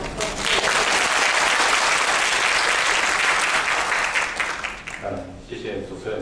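Loud, sustained audience applause fills a hiking-trail conference hall, dense clapping continuing for several seconds before tapering off as a speaker begins talking near the end.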